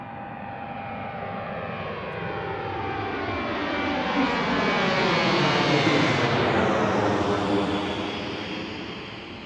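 An American Airlines airliner throttles up for takeoff at Reagan National Airport, its jet engine roar swelling broadly to a loud peak mid-way, then easing slightly as it rolls away, steady and unbroken.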